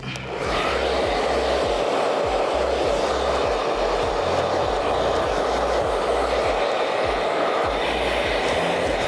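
A hair dryer on its low, unheated setting blows steadily for several seconds after a brief start, a loud close whoosh with a low rumbling drone, used while drying lace-wig glue.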